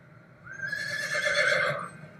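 A horse whinnies once in a long, rising and falling neigh that swells loud then fades, heard alone with a low background rumble in a dramatic series scene.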